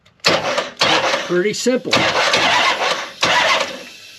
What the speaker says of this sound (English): I connected that to the starter so I can spin the engine over.